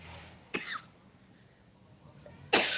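Two harsh coughs from a man recovering from a cough, close and loud, separated by a short quiet pause, with no talk.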